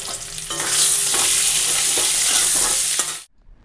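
Leafy greens fry in a pan with a loud, close sizzle and scraping stir strokes, steady for about three seconds before cutting off abruptly.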